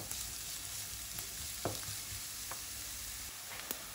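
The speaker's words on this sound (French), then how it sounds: "Je mélange bien l'ensemble" Onions frying in a pan and being stirred, a quiet continuous sizzle with a few brief scraping clicks of the utensil.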